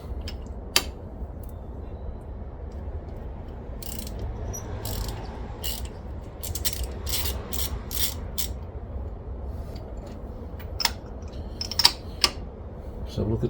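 A ratchet working on the spark plugs of a Ford Focus Mk1 engine, with bursts of quick clicking over a low steady hum, close up and with no talk.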